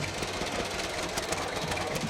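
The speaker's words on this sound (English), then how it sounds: "Butch Butterbaugh from Williamsfield, Ohio on his John Deere D, 1935 D." A 1935 John Deere D tractor runs in a community fair parade, its engine giving a steady, continuous rumble at moderate distance against the open-air street noise.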